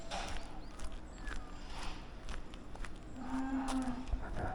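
Cattle at a cow farm give several low moos, including a drawn-out one near the end, set against outdoor ambience with faint footsteps nearby.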